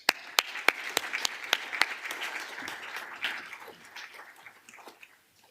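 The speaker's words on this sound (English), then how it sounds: "So please join me in giving Costa a round of applause." Audience applause for Costa Samaras at Energy Week welcome remarks, opening with a few sharp loud claps that blend into a steady patter of many hands, then thinning and fading out near the end.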